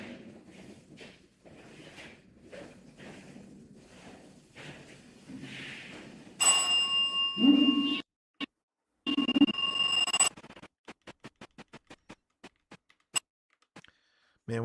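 An electronic dead bell ghost-hunting device goes off in a quiet room. Two sustained, loud, tonal ringing bursts follow faint murmuring, then a scatter of sharp clicks and short beeps trails off into silence.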